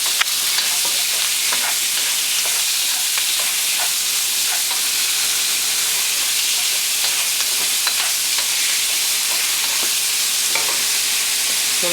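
Beef strips stir-fry in a hot pan with a loud, continuous sizzle, and stirring clatter and scraping recur as the meat is moved around.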